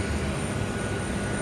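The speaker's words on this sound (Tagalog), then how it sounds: "Aeroplano." A constant, dense roar of aircraft engine noise on an airport ramp in Saudi Arabia during the Hajj and Umrah season, close and unbroken throughout the short moment.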